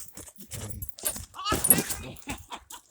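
A dog whimpers and snuffles close by in short bursts while people talk over it.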